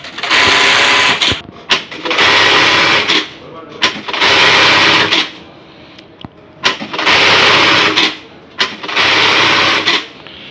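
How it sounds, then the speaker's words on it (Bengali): A Juki LK-1900A bartack button-stitch industrial sewing machine runs in four loud, dense bursts of about a second each, separated by short pauses and clicks, close by with no talking. "এখন মেশিনে চালাবো"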